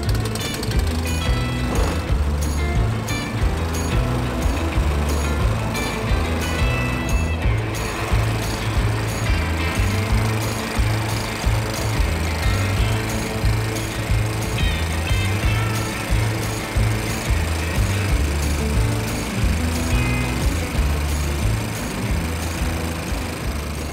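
An ATCO lawn mower cutting grass, its engine running steadily and loudly the whole time with a rhythmic pulsing drone and no talk over it.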